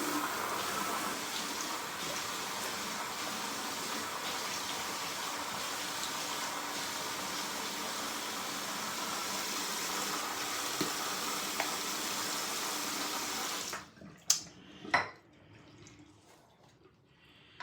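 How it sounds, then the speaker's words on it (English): Water running and splashing steadily as a face is wetted before a shave with a Böker 14er razor, a continuous wet wash that stops abruptly near the end, followed by a few sharp close knocks and drips. "I'm gonna wet the face and get going."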